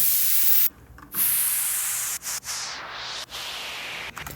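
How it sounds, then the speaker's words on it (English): White noise downlifter in an electronic remix, a bright hissing wash sweeping downward in pitch, chopped by several abrupt gaps and cuts, loud and alone. "And a white noise downlifter."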